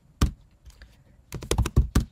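Quick taps on a computer keyboard while entering equation codes in Word, a single keystroke followed by a rapid run of five or six clicks, close and crisp in a quiet room.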